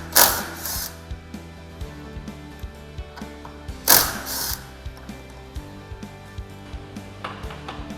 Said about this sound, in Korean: 도어 힌지 볼트 4개를 풉니다